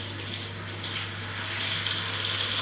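Kitchen tap running cold water into a bowl of roughly chopped spinach, a steady hissing, splashing stream that grows slightly louder as the bowl fills, with no talk.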